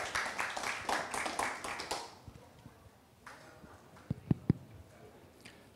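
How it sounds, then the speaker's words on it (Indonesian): Conference audience applauding a speaker: a burst of clapping for about two seconds that quickly fades, followed by quieter room noise and a few sharp knocks. "Tepuk tangan untuk beliau, makasih."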